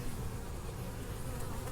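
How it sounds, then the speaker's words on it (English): Honey bees buzz steadily around an open hive during an inspection, a dense, continuous drone of many wings, fairly faint and unbroken, with no voices. "All these bees have to go down below."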